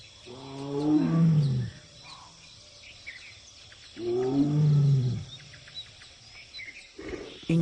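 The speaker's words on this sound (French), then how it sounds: "Il tente d'en attirer une avec ses rugissements." A Bengal tiger roars twice, deep and loud with several seconds between the calls, set among bamboo with insects and birds chirping faintly in the background.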